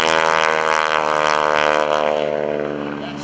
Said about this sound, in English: It's coming from the tip of the propeller going almost supersonic.